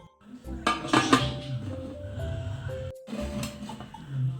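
A cake batter tin is placed inside a pressure cooker, with metallic clanks and scraping knocks near the start and again later, close and fairly loud, separated by quieter rattling.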